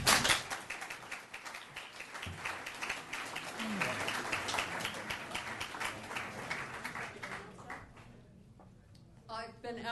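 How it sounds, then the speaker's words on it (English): An audience at a sustainability debate night gives a round of applause, a dense, loud burst of clapping that gradually thins and fades, with a voice speaking at the end. "let's give them a round of applause"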